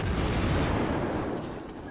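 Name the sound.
enemy ship gunfire incoming in naval video game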